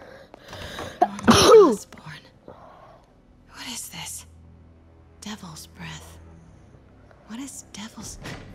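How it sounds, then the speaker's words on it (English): One loud, close sneeze bursts out, followed by soft whispered speech and quiet murmurs from the same person. "Gotta sneeze again."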